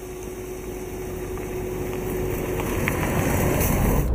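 A 2018 Opel Mokka X 1.4 Turbo with 140 PS, a six-speed torque-converter automatic and all-wheel drive, heard from the cabin on the road: a steady, close engine and tyre drone that grows slightly louder throughout, with no talking.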